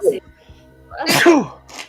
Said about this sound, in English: everybody's sneezing tonight.